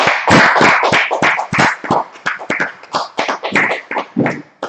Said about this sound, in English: So clap it up real quick.